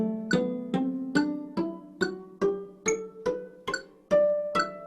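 An ascending scale of nine evenly spaced struck notes rises on a tuned instrument played with full damping, so each note is cut short instead of ringing on. Every note is clear and alone.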